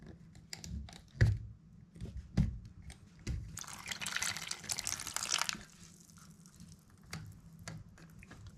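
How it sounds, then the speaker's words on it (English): An opened radiator valve lets water drain into a bucket, heard as a soft splashing trickle in the middle, set among scattered close knocks and drips. "I'm going to slowly open this valve up"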